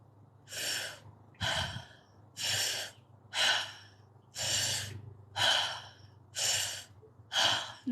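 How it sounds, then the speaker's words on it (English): Eight slow, deep inhalations and exhalations come in an even rhythm during a guided new moon breathing ceremony, close and clear, each breath a broad airy rush separated by short pauses. "Breathe all the way in, breathe into the lungs and into the chest"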